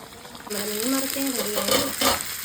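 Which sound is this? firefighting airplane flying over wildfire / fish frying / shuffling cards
fish frying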